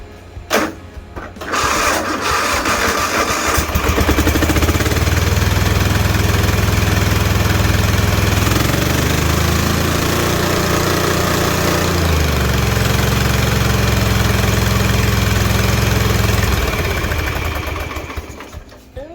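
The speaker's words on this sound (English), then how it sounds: "So let's go ahead and see it run off these coils." A Kohler V-Twin 24 horsepower engine running on newly swapped ignition coils starts up, runs steadily and loudly with a rough, knocking idle and some revving, then shuts off near the end.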